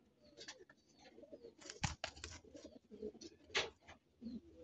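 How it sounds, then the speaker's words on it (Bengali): A short-footed pet pigeon coos in several soft, throaty bursts, close by and fairly quiet, with no talking. "খুবই শর্ট ফুটের কবুতর"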